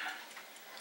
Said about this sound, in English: This is a Baby Ben West clock. Alarm clock.